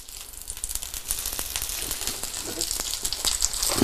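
Breaded fish fillet frying in a pan, a close steady crackling sizzle with scattered pops that grows slightly louder toward the end.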